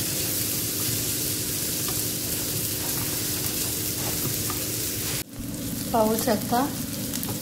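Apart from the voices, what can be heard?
onions frying in a pan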